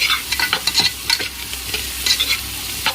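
Ginger garlic paste frying in a pan for ration rice biryani, a steady bright sizzle with repeated stirring scrapes and clatters running throughout, close and fairly loud, no talking.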